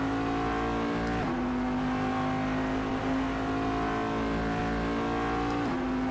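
Cadillac DPi prototype race car with a beefy naturally aspirated engine in Assetto Corsa, droning loudly and steadily at high revs, with brief dips at gear shifts and no talk.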